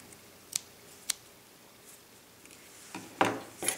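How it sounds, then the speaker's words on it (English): Scissors snip through crochet yarn in a few short, sharp cuts, spaced apart, with a faint rustle of handling near the end; quiet and close, no talk. "And cut your yarn."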